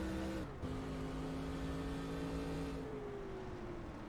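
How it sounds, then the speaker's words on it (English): A steady, loud race car engine hums in NASCAR Racing 2003, a quick lift briefly breaking the tone before it settles and slowly falls in pitch, with no talking over it. "I cannot believe the car's still running right now."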